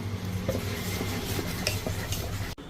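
Sweet paniyaram batter is mixed in a bowl, giving a steady series of soft scraping and light clinking stirring sounds at close range, ending in a brief clunk.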